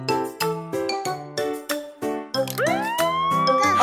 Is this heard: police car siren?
yes